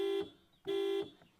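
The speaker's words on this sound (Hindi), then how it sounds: "बट यहाँ पे हॉर्न आपको सुना देते हैं।" Two short, bright honks from the horn of a 2021 Isuzu D-Max Hi-Lander pickup truck, each about a third of a second with a brief gap between, sounding alone.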